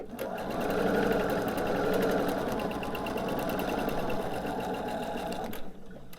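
A sewing machine stitches cotton fabric triangle units, with right sides together, for a quilt block. It gives a fast, rhythmic, close mechanical whir that runs steadily for several seconds before stopping abruptly near the end.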